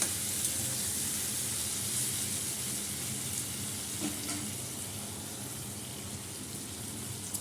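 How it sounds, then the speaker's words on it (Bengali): Spice masala sautés in a pan with a steady hissing sizzle, quiet and even throughout, with a faint clink of a spoon partway through. "মশলাটা একটু ভালো কষানো হবে, রান্নার টেস্ট খেতে ভালো হবে।"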